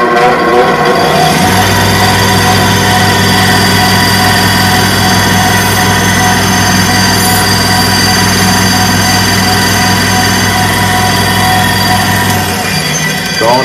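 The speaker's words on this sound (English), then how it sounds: "When I'm polishing on this belt, this blade, because it's convex, I actually have to rock the blade on the Scotch Brite belt" A convex blade rocked across a green Scotch Brite belt on a belt grinder gives a steady, loud mechanical drone with a low motor hum, running unbroken for most of the clip before cutting off near the end.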